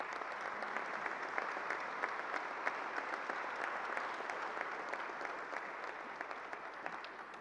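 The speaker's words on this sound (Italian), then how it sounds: "noi li accogliamo con un grande benvenuto e con un applauso" An audience at a national convention on Christian trade unionism gives welcoming applause to guests; dense, sustained clapping fills the room at a steady level, distant and faint, with no speech.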